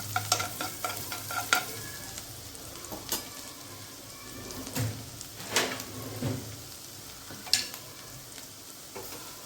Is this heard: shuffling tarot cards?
no